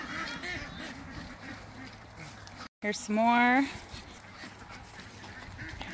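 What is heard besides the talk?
ducks quacking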